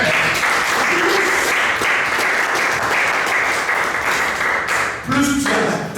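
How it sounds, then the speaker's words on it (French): Sustained clapping from a church congregation applauding the Lord during a French-language sermon, loud and even, with a few voices calling out over it near the end. "Acclamez le Seigneur. Amen."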